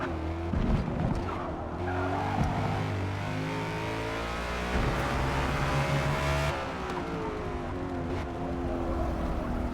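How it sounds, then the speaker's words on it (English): Race car in Forza Motorsport braking hard into a hairpin, engine roaring and downshifting with tires squealing and skidding, loud and continuous with no voices. "Heavy braking into the hairpin here, really just fighting to get this thing to slow down sometimes"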